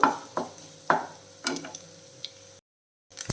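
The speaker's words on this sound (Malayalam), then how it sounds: "അപ്പോൾ അതും കൂടെ ഇട്ട് നല്ല രീതിയിലൊന്ന് മിക്സ് ചെയ്തു" A spoon stirs cowpeas and garlic in a frying pan, making a series of close scraping knocks every half second or so over a faint sizzle, then a brief silence and one more stir.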